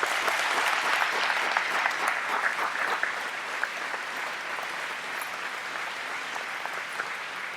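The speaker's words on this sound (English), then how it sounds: "So let's please give them a round of applause." An audience claps steadily throughout, a dense, sustained round of applause that tapers slightly toward the end.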